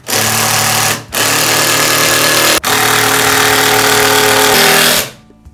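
A power drill drives screws into a wooden plant ladder, running loud and steady for about five seconds with two brief breaks before stopping.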